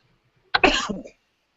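A single short cough, close and fairly loud, from a man on a sports podcast, lasting about half a second in an otherwise quiet moment.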